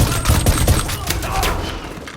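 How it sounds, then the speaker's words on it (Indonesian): Rapid gunfire crackles through a film shootout in a cartel tunnel, a dense fusillade of sharp shots with heavy low thumps over about two seconds, loud and close. "aksi baku tembak pun gak bisa dihindarkan"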